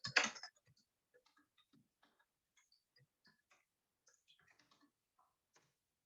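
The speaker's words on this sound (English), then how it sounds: "quickly typing something here." Sparse, faint keystrokes on a computer keyboard tap out irregularly after a brief louder rustle at the start, each click soft and separate against near silence.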